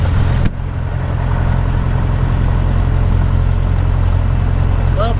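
A Cessna 150 aircraft engine runs steadily just after starting, a loud, even low droning hum heard close up in the cockpit, with a brief sharp click at the very start.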